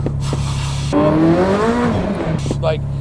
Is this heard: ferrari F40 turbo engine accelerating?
yes